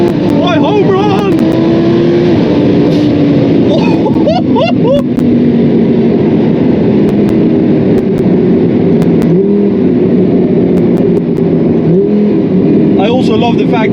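A 1250 hp twin-turbo Lamborghini Huracan accelerating hard through the gears on the autobahn, a loud in-cabin engine drone rising in pitch, with shift breaks and someone talking over it.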